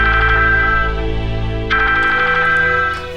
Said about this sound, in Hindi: बेटा फोन आया है।